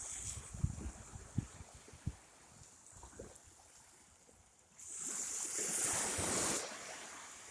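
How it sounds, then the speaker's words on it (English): Ocean waves on a beach in Antigua, heard faintly at first with a few soft thumps, then a broader wash of surf swells up near the end before easing off. "Sound of the waves is just so relaxing."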